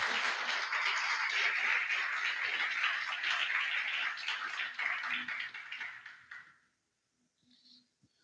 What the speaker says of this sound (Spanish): Le damos un aplauso a Dios en esta mañana.